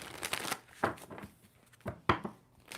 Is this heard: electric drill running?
no